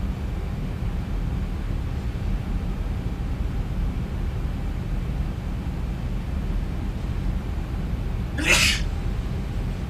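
A single short, sharp sneeze breaks out near the end, clear and close over a constant low engine-like drone of a flight simulator session.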